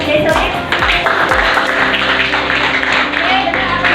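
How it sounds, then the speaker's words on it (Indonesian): Students in a classroom clap for a classmate, a dense burst of hand claps close by that carries on steadily alongside talking voices. "Kita kasih tepuk tangan untuk Jesselin."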